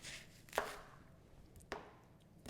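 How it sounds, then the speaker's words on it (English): A knife cuts an onion on a board with two sharp, distinct chops spaced about a second apart, close and clear against a quiet background. "we want to make slices, thin slices, all the way along the onion"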